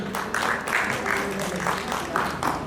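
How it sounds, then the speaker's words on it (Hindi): A crowd at a Women's Day award ceremony claps steadily, the applause continuous and fairly loud, with a voice audible over it. "एक बार जोरदार तालियां परमिला जी के लिए"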